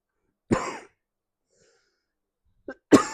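Indoors during a chemistry lesson, a man with a seasonal cough gives a sharp, loud cough, then after a silent pause a brief throat clear followed by another harsh cough, close to the microphone.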